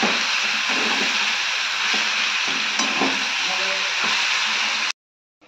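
Fried mushrooms tipped into a pan of spiced boiled potato sizzle steadily while a spoon stirs and scrapes them, close and continuous, for about five seconds before the sound cuts to silence.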